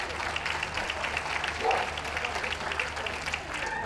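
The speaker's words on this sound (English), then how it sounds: "A huge well done and round of applause for our ex-team best of breed winners," A dog show audience at a pastoral group judging claps for the best of breed winners, a moderate ongoing patter of applause with a crowd murmur behind it.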